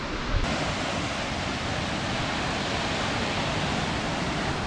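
A waterfall on a hiking trail roaring as a steady, broad, even rush of water, loud and close, with no breaks and no voices.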